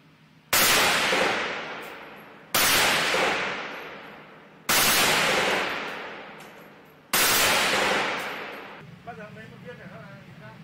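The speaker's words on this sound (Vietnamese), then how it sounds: "các khẩu súng sẽ được đưa đi kiểm tra bắn thử trước khi chuyển vào kho của nhà máy" Four loud rifle test-firing shots at the Z111 weapons factory, spaced about two seconds apart, each ringing out and decaying with echo, followed by faint clinking.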